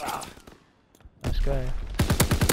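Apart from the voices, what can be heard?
gunshot in a video game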